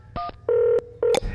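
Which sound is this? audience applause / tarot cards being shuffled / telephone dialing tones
telephone dialing tones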